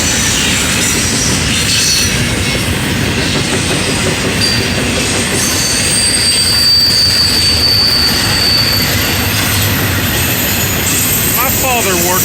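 A CSX stack train rolls past close by, loud and continuous, with rumbling wheels, rhythmic clatter over rail joints and high squealing wheel screech throughout.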